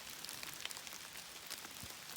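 Steady rain patters on leaves and the ground in a cedar forest, a soft, even wash of fine drops with no voices.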